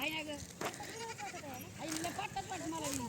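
Goats grazing in a farm field bleat in short, wavering calls close by, with people talking over them throughout.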